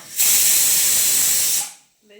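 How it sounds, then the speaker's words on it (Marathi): A pressure cooker vents steam in a loud, steady hiss lasting about a second and a half, starting abruptly and then tapering off into quiet. "कुकर लावलंच म्हणलं सिट्ट्या वाजणारच ना"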